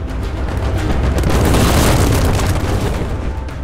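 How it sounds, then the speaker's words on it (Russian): Cannons bombard the stone walls of a besieged city, heard as a loud, sustained rumbling roar of artillery booms blending into one heavy wash of sound. "Пушки бьют по каменным стенам, пока, наконец, не удается пробить брешь."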